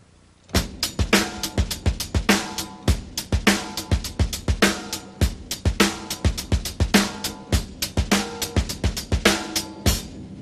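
A drummer plays a steady groove in 4/4 on a full kit, crisp kick, snare and cymbal hits repeating in a tight, loud, even rhythm with no talking.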